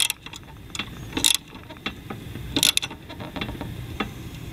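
A hand-turned Arnold lawn mower blade removal tool being tightened, with a scattering of close mechanical clicks and ratcheting ticks, two sharper metallic snaps standing out among them.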